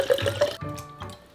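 Water pours into a blender jar, a short close burst of dripping and liquid filling that gurgles in a few uneven splashes, then trails off quietly.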